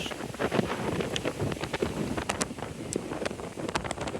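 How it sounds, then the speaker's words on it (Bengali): Strong seaside wind buffets the microphone in a continuous roaring rush with gusty bursts and hard thumps throughout, loud and close, with no talk. "মোবাইল ধরে রাখা যাচ্ছে না, অনেক বাতাস।"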